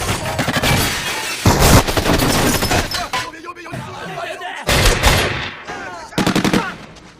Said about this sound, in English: there was a shootout between the police, Yakuza, and Triad